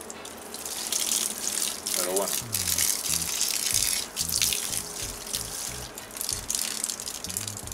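Watering can pours water onto a holm oak bonsai, a steady close gushing splash lasting throughout, with someone speaking briefly over it.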